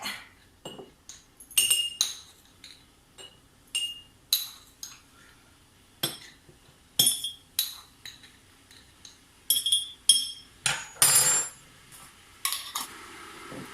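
A teaspoon clinks against glass jars while coffee is added, giving sharp, bright ringing taps in irregular clusters with quiet gaps between, close by and with no talking.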